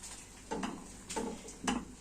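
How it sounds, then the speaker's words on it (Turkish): A spoon scrapes and clinks rhythmically against a pot of frying food, three stirring strokes over a soft background hiss, quiet and close. "Şöyle tabacını iyice karıştırayım arkadaşlar"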